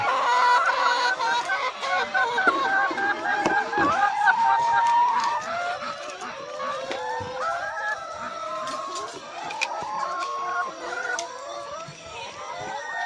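A dense chorus of many laying hens clucking and squawking together, loud and continuous, like a crowded coop.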